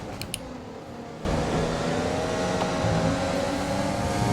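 Racing car engine in the F1 2020 video game, a loud, continuous high-pitched engine drone that kicks in abruptly after a quieter opening and holds steady at full volume.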